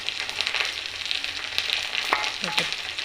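Steady frying sizzle of onions and fresh green chillies in a pan, a constant hiss with a few clinks and stirring scrapes near the end.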